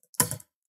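One brief cluster of computer keyboard keystrokes, a quick close tap or two lasting under half a second, with silence around it and no talking.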